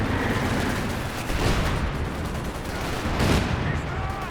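Gunfire in the WWII strategy game Company of Heroes 2, with dense overlapping rifle and machine-gun shots rattling continuously and occasional heavier booms swelling through a busy battle din.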